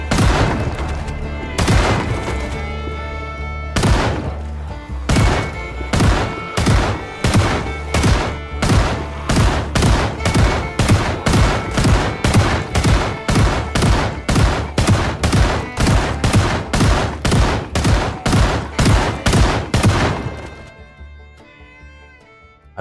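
Shotgun fire in the video game Project Zomboid: a rapid series of about thirty loud, sharp blasts at a steady rhythm, with a few spaced shots at the start before the volley and a quiet tail at the end.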